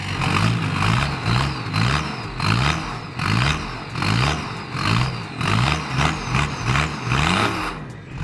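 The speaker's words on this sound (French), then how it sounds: "Là à froid je vais mettre des tout petits coups de gaz. Tu vas voir le bruit." A cold car engine takes a series of short, small throttle blips, about a dozen quick revs rising and falling in a steady rhythm, close and loud.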